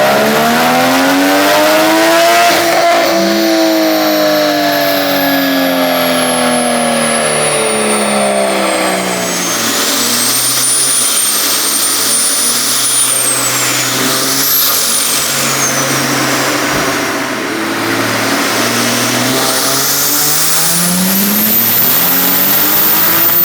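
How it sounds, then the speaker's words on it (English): A Toyota Supra with a 6466 turbo revs hard on a dyno, engine pitch sweeping up and down through repeated pulls, with turbo whistle and boost hiss, loud and close throughout with no talk. "So we'll insert the dyno clips,"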